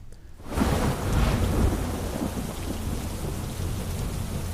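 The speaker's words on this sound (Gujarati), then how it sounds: "ડાંગ જિલ્લામાં ધોધમાર વરસાદ વરસી રહ્યો છે" Heavy rain pours down steadily in Dang district after a sudden loud burst of thunder, the roar of rain filling the whole stretch as a dense, even hiss.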